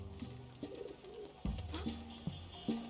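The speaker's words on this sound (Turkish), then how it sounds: "Tamam kuş bizim şeyimizi aldı." A pigeon coos softly in the video game Valiant Hearts: The Great War, with several low, rounded calls repeating over a quiet musical and ambient game background.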